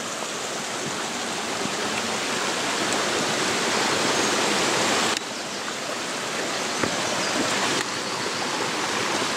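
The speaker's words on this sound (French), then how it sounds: "le petit endroit où se jette l'eau pour former cette cascade." A small waterfall in the Vosges near Gérardmer pours in a loud, dense, steady rush of falling water close by, with no voices.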